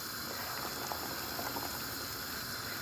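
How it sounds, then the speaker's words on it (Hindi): Thick sugar syrup for plum murabba boils steadily in a pot, a soft, constant bubbling and hiss heard fairly faintly throughout. "अब हमने इनको अच्छे से पका लेना है यहाँ तक कि ये जो चाशनी है ये गाढ़ी हो जाए"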